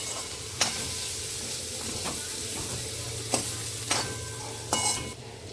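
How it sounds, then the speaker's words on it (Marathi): Garam masala stirred into a bean pod curry in a pan, a steady sizzle underneath with a few distinct spatula scrapes and knocks against the metal at irregular intervals. "त्यामध्ये ते व्यवस्थित आता मिक्स करून घ्यायचं आहे"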